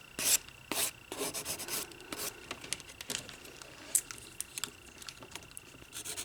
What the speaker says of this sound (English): This is why we're going to go in with 180 grit, so we're not taking a bunch of layers off, we're just scuffing up the surface